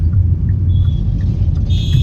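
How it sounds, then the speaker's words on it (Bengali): A car being parked at the Sagarika tourist lodge in Bakkhali gives off a steady, close, low engine rumble, with no talk. "এবার এখানে গাড়ি পার্ক করে দেবো"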